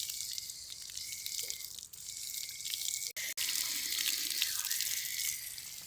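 Tap water runs steadily while a small brass lamp is washed under it, a continuous close splashing hiss with brief interruptions as the lamp moves through the stream.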